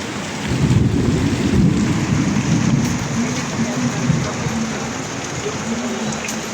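Heavy rain pours steadily in a thunderstorm with lightning while low thunder rumbles underneath, loud and close, building then easing slightly.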